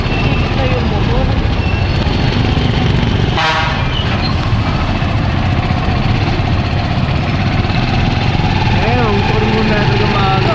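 A motorcycle engine runs loudly and steadily in a busy street during a clearing operation in Tondo and Binondo, with a brief horn toot partway through and people talking over the constant engine drone.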